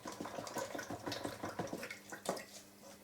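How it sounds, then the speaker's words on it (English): Water splashes and trickles over a metal nameplate from a Guyatone LG50, rinsing away ferric chloride etchant. The splashing is close and uneven, with a quick run of small bursts and drips and no voices. "Rinse off ferric chloride,"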